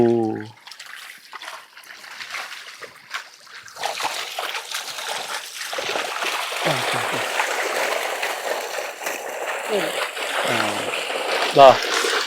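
Water splashes and trickles as fish caught in a nylon net in a snakehead (murrel) farming pond are released back, with voices talking over the wet sloshing throughout.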